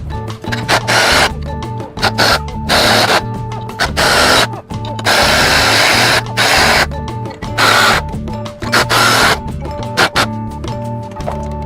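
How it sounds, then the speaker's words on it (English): A drill driver fitted with a socket whirs in repeated loud bursts, spinning bolts into a wall to mount a hosepipe reel, with brief pauses between each run. "I'm going to use a drill driver with a socket on the end"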